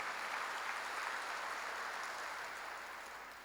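Congregation clapping in a Korean church worship service, a continuous even wash of applause filling the room, gradually fading toward the end with no voices over it.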